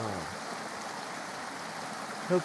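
A river flows in an outdoor hunting spot, giving a steady broadband rush of water that runs through the whole stretch at an even, fairly close level, with a brief thump near the end.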